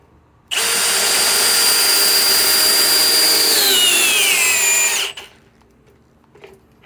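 A Milwaukee M18 Gen 4 cordless hammer drill driver on speed 1 spins an 8-inch power auger into a hole, a steady loud whine for several seconds that sags in pitch as it bogs down, then cuts off.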